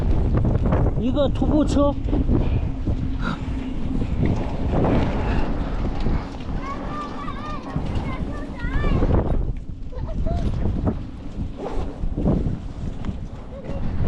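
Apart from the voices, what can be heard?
strong wind blowing while cycling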